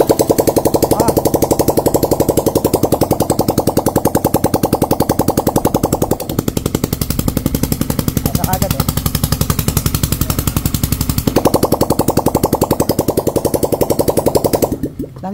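A Yamaha TFX motorcycle engine, its cylinder block damaged, fires up and runs loud and close with a steady rapid rattling idle throughout, briefly dipping midway and cutting off at the very end.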